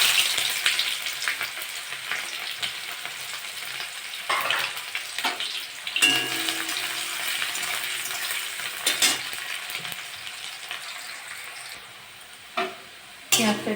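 Sliced onions and black cumin seeds frying in oil in a pan: a steady sizzle with occasional stirring scrapes and utensil clinks, growing louder in bursts before quieting near the end.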